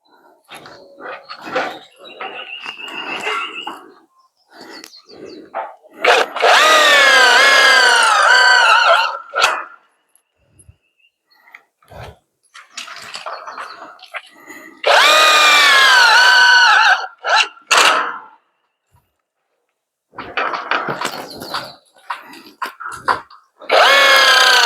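A power drill drives screws into roof fascia boards in two long, loud whirring bursts that rise in pitch, with talk, clatter and a barking dog in the gaps between them.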